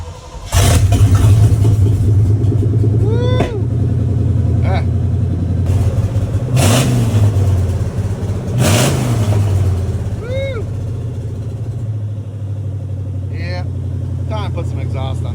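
A car engine with a stock exhaust revs up and drops back in repeated bursts as the driver works the clutch between shifts, loud and close, with idle rumble between pulls and a voice speaking briefly.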